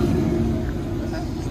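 A pickup truck with a large muffler idles with a deep, steady engine rumble and low throaty exhaust tone, constant and fairly loud throughout.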